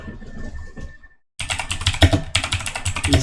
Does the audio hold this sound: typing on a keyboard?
yes